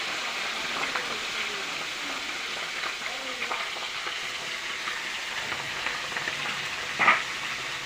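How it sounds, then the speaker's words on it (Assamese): Fish frying in a pan for a home lunch, a steady close sizzle and crackle running throughout with faint stirring sounds, and a brief louder clatter near the end. "মাছখিনি বনাই মেলি ভাজি আছোঁ মই।"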